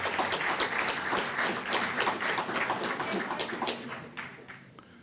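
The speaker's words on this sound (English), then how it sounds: "Let's welcome them with a warm round of applause." Audience applause welcoming city clerk candidates at an Oxnard candidates forum, a steady patter of many hands clapping at moderate level that thins and fades toward the end.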